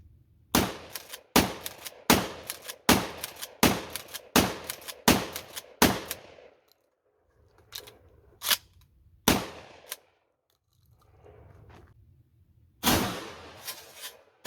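Shotgun shells fire in quick succession, about eight sharp reports at a steady pace, then a pause and a few more scattered shots, with small handling sounds in between.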